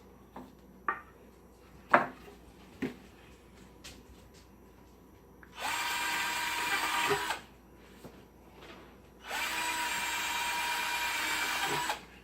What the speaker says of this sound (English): we're going to pre-drill through at least the bottom board, maybe the top board too.